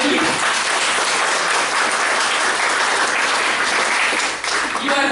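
A church congregation claps together through a worship service, steady dense applause filling the room from start to finish, with a brief dip near the end and voices faintly mixed in.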